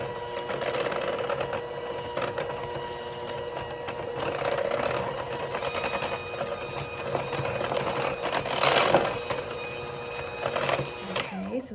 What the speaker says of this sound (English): So we're gonna mix this all together.